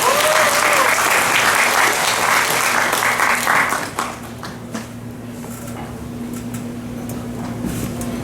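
Audience applause at a youth peace and reunification rally, a dense burst of clapping that fills the first half and then thins to scattered claps over a steady low hum.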